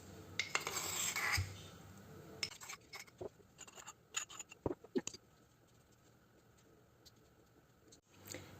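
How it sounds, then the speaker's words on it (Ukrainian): A spoon stirs a sauce of 18% sour cream and mustard at the bottom of a salad bowl, making quiet, irregular clinks and scrapes in short bursts with pauses between, and no voices. "І так, на дні миски змішую наш соус"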